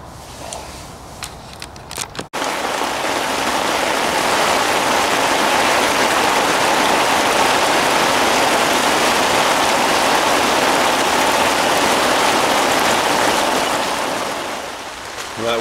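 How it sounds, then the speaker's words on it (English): Heavy rain pours down steadily at a fishing lake, a loud, dense wash that builds after a couple of seconds of lighter patter and holds constant, with no talk over it. "as you can hear, the rain's pouring down again"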